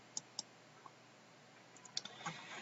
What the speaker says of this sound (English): We're going to click on this link here.